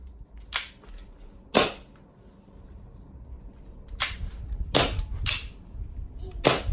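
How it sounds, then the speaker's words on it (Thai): An AW HX2301 airsoft BB pistol fires six sharp, close shots with irregular gaps between them, each a hard crack that stands out over low background hum, with no speech. "โอเคครับหมดสไลด์ค้างนะครับปืนยิงดี ปกติดีนะครับ"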